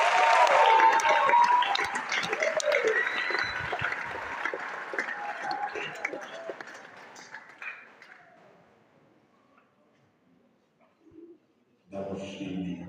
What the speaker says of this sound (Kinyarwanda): tubakomera amashyi nabo